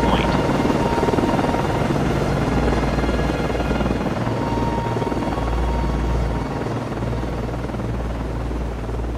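A naval helicopter flying from a frigate in the submarine game Cold Waters, a loud continuous rotor and turbine drone with steady low chopping throughout, no speech.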